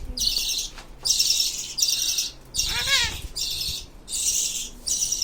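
Yellow baby pet birds chirp while being fed, bursts of high, shrill, rapid cheeping repeating in rhythmic clusters with brief pauses, close and fairly loud, with a faint voice in the background.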